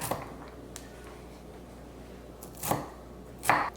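A knife chops walnuts on a board in a home kitchen, a few soft, scattered cuts with two sharper crunching strokes near the end over a quiet room.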